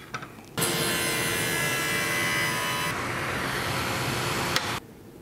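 A table saw makes a test groove cut in a wooden leg: a loud, steady cutting roar starts suddenly, holds for about four seconds with a slight drop in pitch midway, then stops sharply as the blade winds down.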